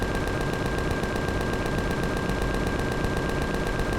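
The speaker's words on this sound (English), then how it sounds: "The Gatling guns don't seem to be working very well either." Gatling guns in Empyrion Galactic Survival fire in a loud, unbroken stream of rapid shots with a steady mechanical whine running through the whole burst. No one speaks.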